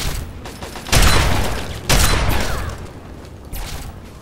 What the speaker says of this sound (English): Sounded like an assault rifle.